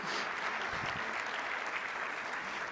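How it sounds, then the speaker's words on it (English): Audience applause fills a summit hall, a steady dense wash of many hands clapping at full volume from start to finish with no voices breaking through. "Perhaps another round of applause for a rousing opening welcome."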